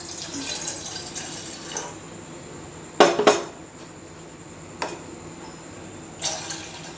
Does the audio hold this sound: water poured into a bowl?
yes